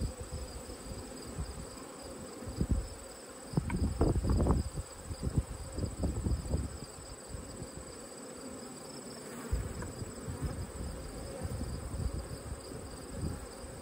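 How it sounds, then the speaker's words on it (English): A steady mass of honeybees in a hive drones continuously, with louder buzzing passes close by and a faint rustle underneath throughout. "there's still a mass of bees in there"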